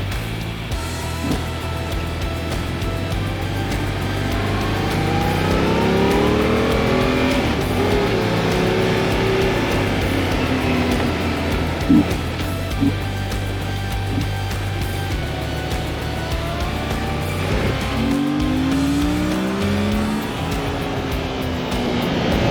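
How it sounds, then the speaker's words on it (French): A motorcycle cruises on a French motorway, its engine droning steadily under heavy wind rush, with revs rising and falling in long sweeps throughout. "on vient de faire un petit tour en moto sur l'autoroute, c'était dingue"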